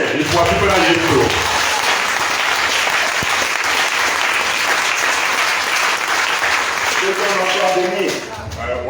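A church congregation applauds Jesus with loud, sustained clapping filling the room for several seconds, a voice speaking over it at the start and again as the applause fades out.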